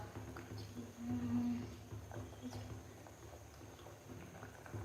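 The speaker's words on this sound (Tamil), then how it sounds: "கடப்பருப்பு இன்னமும் வேகுது" Chana dal bubbling as it boils in a pot, a faint, soft, continuous simmering patter with low background hum.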